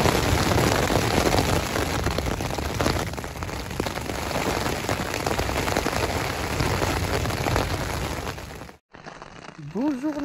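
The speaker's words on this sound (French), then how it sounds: "il a plu toute la nuit, il pleut encore" Steady rain falling outside a mountain refuge in the Pyrenees in June, a dense continuous patter that runs loud and close, broken by a brief dropout near the end before a voice begins.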